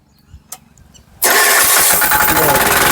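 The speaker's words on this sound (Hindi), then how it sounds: "अभी हम मशीन को चलाएंगे, अभी हम स्टार्टिंग देखेंगे सबसे पहले मशीन की" A self-start diesel engine on a sugarcane earthing machine cranks over with a few faint clicks, then bursts into a loud, steady running clatter that holds for the rest of the moment, close to the listener.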